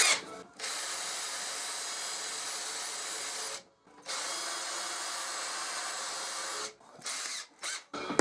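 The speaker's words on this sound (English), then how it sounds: "Now I can drill the holes. I'm going to use a countersink bit just to center the hole." A power drill with a countersink bit whirs steadily through several hole-drilling bursts, with brief pauses between them and a few short stops near the end.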